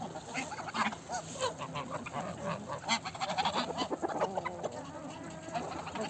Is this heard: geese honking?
yes